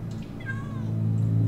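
A single cat meow in the game Minecraft Story Mode, one short rising and falling cry heard clearly over a low, steady droning background.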